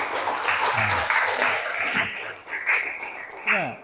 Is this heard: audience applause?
yes